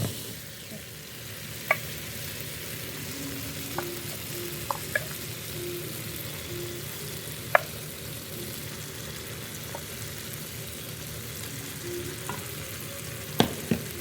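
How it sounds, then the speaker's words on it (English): Tomatoes mashed with the back of a spoon in a frying pan, a soft, steady sizzle with scattered light taps and scrapes of the spoon against the pan, close and fairly quiet. "You want to take the back of the spoon and just try and mash it up"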